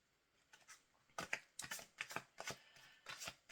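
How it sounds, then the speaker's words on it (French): A card drawn from a deck: quiet, close shuffling and sliding of cardboard, a series of soft crisp flicks and rustles over a few seconds, with no one speaking. "On va prendre une petite carte."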